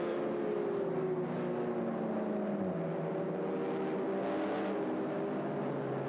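Racing cars in an ADAC VLN endurance race on the Nürburgring's Hatzenbach section, one chasing a red, white and black Seat, give off a distant whining engine drone whose pitch drops and then holds, faint and unbroken.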